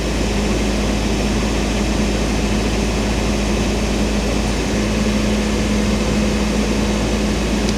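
A Bobcat excavator's A/C system runs on the machine, a loud, constant mechanical drone with a steady tonal hum and low rumble that holds unchanged for about eight seconds, no voices.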